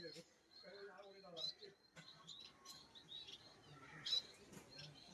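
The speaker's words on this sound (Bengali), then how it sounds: "এখানে প্রচুর পরিমাণে পাখি রয়েছে।" Many birds chirp and tweet in a paddy field beside a banana grove, scattered bright calls over faint insect buzz, fairly quiet and distant.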